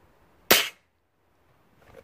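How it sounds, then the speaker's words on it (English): A single sharp crack from a Weihrauch HW99S spring air rifle fired into grass, loud and close, then quick silence with faint background noise. "Again, second shot into the grass."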